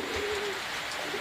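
Pigeon cooing in a bird-keeping setting, a soft, steady drawn-out coo lasting about a second, fairly faint against background noise with no talk.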